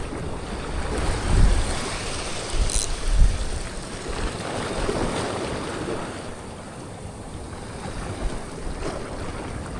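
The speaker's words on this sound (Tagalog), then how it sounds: "Taas ng alon." High ocean waves wash and churn around a small fishing boat at sea, a broad roar with heavier surges early on, mixed with gusty wind buffeting close to the microphone, no voices.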